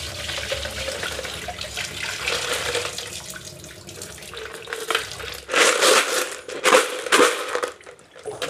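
Fish tank gravel is washed by hand in water, with sloshing and churning that grows into several louder splashing bursts toward the end, close by and with no talk.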